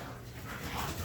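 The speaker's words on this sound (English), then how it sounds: "My dogs are playing in the background, so excuse the noise." Dogs playing indoors make faint whimpering and yipping noises in the background, a brief muffled scuffle under low room hiss.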